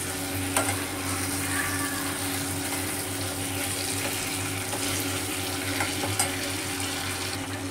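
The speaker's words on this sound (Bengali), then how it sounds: "এবার দিয়ে এটাকে আমি ভালো করে নাড়াচাড়া করে এর মধ্যে আমি ডালটা ঢেলে দেব।" Boiled masoor dal being stirred into spices with a little garam masala in a hot pan, a steady close sizzle and wet scraping churn running continuously with a few sharper clinks of the spoon against the pan.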